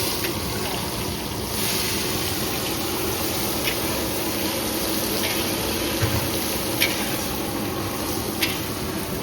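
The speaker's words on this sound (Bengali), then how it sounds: "ফোড়ন ভাজা হয়ে গেছে, সুন্দর গন্ধ ছেড়ে দিয়েছি গরম মশলার। এইবার কুচনো পেঁয়াজ দেবো।" Chopped onions sizzle in hot oil with whole spices, a steady, moderately loud hiss with occasional small pops and crackles, large-batch cooking.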